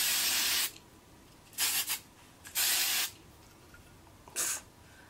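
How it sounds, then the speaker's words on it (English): Hairspray misted onto a voluminous braid in several short bursts, a longer spray then a few quick puffs, close and fairly soft with quiet gaps between. "you can spray your braid just to prevent"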